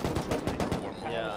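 Rapid automatic gunfire in the survival video game Rust, a fast burst of about eight close, loud shots at an even rhythm, then a brief fading tail.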